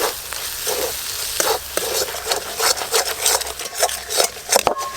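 Ground chili, turmeric and coriander spices fry and get stirred in a pan, a steady close sizzle broken by repeated scraping strokes of the spoon, no voices.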